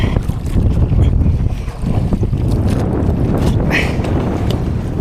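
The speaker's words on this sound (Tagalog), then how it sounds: "Malakas pang hangin, oh. Biglang lumakas mo ng hangin." Strong wind gusts buffet a small fishing boat at sea during a night outing, roaring steadily across the microphone with low rumbling noise throughout.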